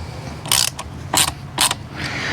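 A wrench loosening Torx Plus bolts on a Ford Bronco part produces three short, close bursts of metallic ratcheting clicks separated by brief pauses, with no talking.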